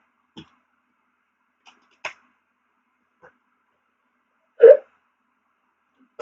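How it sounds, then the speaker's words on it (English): Several short hiccup-like sounds come one at a time with long silent gaps between them, and the fourth near the end is the loudest. No one talks. "Just give me a little hiccup there."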